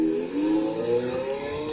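Car engine revving played back through an Alexa smart speaker, a short throaty rising rev that holds and then eases off, heard alone.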